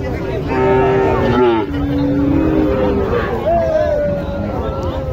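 Sahiwal cattle low in drawn-out moos at a busy cattle market in Naogaon, several calls in a row, loud and close over background crowd chatter and a speaking voice.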